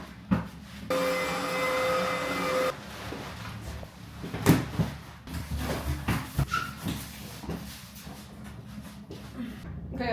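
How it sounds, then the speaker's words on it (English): A household washing machine laundering a rug, with a steady droning motor whine for about two seconds, then irregular thumps and clunks as the heavy load tumbles, fairly close and continuous without speech. "apologies for the sound of the laundry machine washing my rug"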